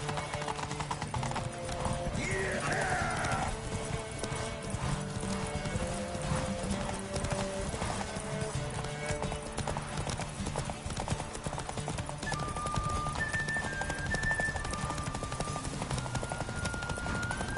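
Geralt's horse Roach gallops in The Witcher video game, a fast, steady run of hoofbeats that continues throughout over background music, with a brief whinny-like sound early on.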